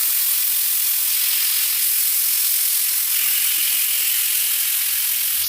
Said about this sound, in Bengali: চিকেনটা ভালো করে ফ্রাই করে নেব।